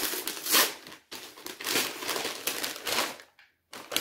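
Wrapping paper crinkles and tears in close, loud bursts as a Sarah Morgan book from an advent calendar is unwrapped, with brief pauses between the rustling handfuls.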